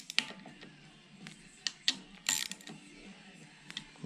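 A ratchet wrench tightens the clutch cover bolts on a Z125 Grom motorcycle, giving short close bursts of clicking with pauses between bolts and no talking.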